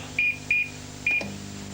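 Three short, bright electronic beeps from an 1980s microwave oven keypad as a three-minute timer is set, the first two close together and a third after a pause, loud and clear over a low hum.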